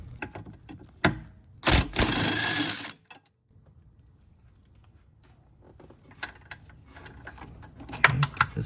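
A wrench working a bolt on the ABS unit of a 1991–1999 Honda NSX, giving a short burst of rapid metallic ratcheting followed by scattered light clicks and taps, close and moderately quiet.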